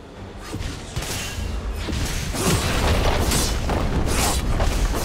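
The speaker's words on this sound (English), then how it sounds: "Red team's turret has been destroyed." A turret collapsing in League of Legends, heard as a building rumble of booms and crumbling impacts that swells louder through the second half, dense and close over continuous game noise.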